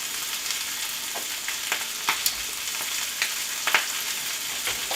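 Kale and zucchini sizzle in a hot pan, a steady close frying hiss with occasional stirring scrapes and pops, no voices.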